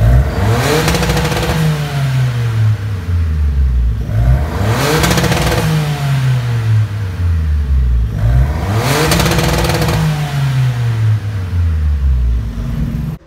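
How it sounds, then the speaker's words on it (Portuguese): A VW Up TSI fitted with an exhaust diffuser revs hard three times, each climb ending in a sharp hard-cut rev limiter with crackling pops before the engine drops back to idle. The exhaust is loud and close, with no talking. "Agora é a vez do Zilão, que ele vai acelerar e vai dar o hard cut."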